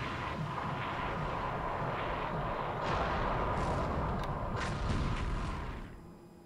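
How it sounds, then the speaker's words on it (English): Distant booming of a submarine's deck gun firing on a small cargo ship in the War in the Pacific naval strategy game, a continuous rumbling barrage with a few sharper reports standing out, fairly faint, no talking. "our submarine commander wanted to take this small cargo ship, but it used only the deck gun"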